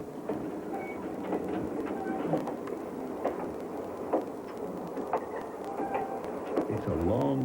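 A passenger train running through remote Canadian countryside in 1990, with a steady rumbling roll and intermittent clicks and clatter of the cars over the rails throughout.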